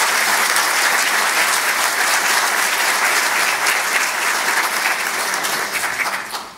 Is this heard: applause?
yes